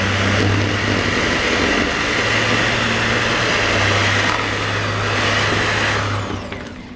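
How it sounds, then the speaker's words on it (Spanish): An electric hand mixer beating butter runs with a steady, loud whir close by, holding an even drone for about six seconds before tapering off, with no talking. "La mantequilla la vamos a batir."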